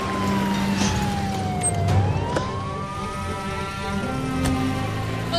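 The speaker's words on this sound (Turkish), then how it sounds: "Öndeki ambulansı takip edin" An ambulance siren wails in rising and falling sweeps over nearby road traffic, loud and continuous, with a brief horn-like tone partway through.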